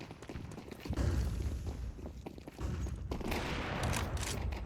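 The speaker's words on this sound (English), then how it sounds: "Firing off a couple of pot shots." Scattered pistol shots and footsteps in a Counter-Strike esports match on the Ancient map sound faint and muffled as a few separate pops within the busy game mix.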